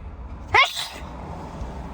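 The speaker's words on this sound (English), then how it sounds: "I gotta sneeze." A single sharp sneeze bursts out close and fairly loud after a quiet moment, then fades into low room hiss.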